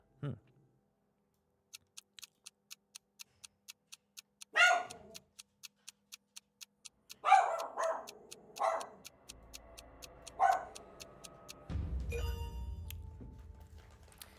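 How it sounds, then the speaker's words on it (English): A pet dog barks in several short bursts at moderate distance inside a home, separated by a steady ticking like a clock, with a low rumbling noise toward the end. "I gotta bribe my dog with snacks so that she will lay down and not bark."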